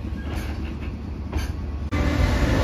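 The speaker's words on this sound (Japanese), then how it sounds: "113系近郊型電車です。" A JR West 113 series suburban electric train on the Sanyo Line passes close by with a steady rumble and rolling wheel noise, and a louder surge near the end.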